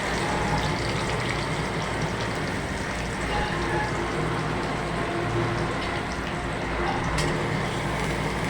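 Onions fry in hot oil with bay leaves for a Mughal-style beef keema bhuna, giving off a dense, continuous crackling sizzle that stays loud and even throughout, without any talk.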